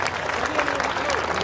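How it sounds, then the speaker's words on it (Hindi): Audience clapping at a Hindi comedy poetry gathering (kavi sammelan), a dense steady patter of many hands, with voices audible in the mix. "सब लोग जो एक बार मुझे तालियां बजाकर अनुमति दीजिए"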